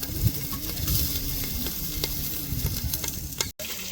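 Onions fry in rendered mutton fat, a loud close sizzle with stirring scrapes throughout, broken by a brief silent gap near the end, with no voices.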